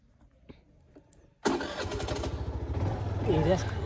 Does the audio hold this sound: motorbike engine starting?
yes